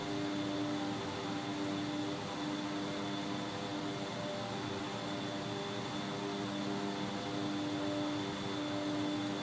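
The twin propeller engines of a Beechcraft 1900D in a flight simulator game give a constant, even drone with a steady tonal hum and no change in level.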